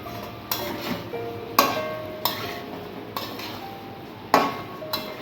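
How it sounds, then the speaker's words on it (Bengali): A spoon stirs and scrapes through chicken and fried potatoes sautéing in a pan, with a handful of distinct clanks spaced irregularly over a faint, steady sizzle. "খুব ভালোভাবে সব কিছুকে নেড়ে কষিয়ে নেব"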